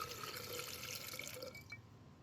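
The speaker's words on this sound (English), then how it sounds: "And now we're pouring 110 milliliters into each cylinder." B-12 carburetor cleaner poured through a funnel into an Audi engine cylinder, a faint steady liquid trickle with soft dripping for about two seconds, close and quiet.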